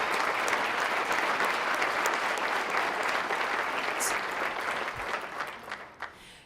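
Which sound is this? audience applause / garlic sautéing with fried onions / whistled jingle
audience applause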